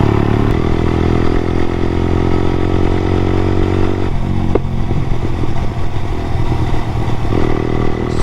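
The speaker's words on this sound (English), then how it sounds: "Exhaust is banging today" A Honda CBR125R motorcycle engine runs steadily close by, with a continuous idling exhaust drone and a slight shift in tone partway through, no voices over it.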